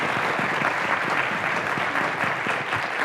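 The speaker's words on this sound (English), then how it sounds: "Let's give him a round of applause" Steady audience applause for a city councilmember at a public forum on reconnecting communities, a dense even patter of many hands clapping close by with no voices over it.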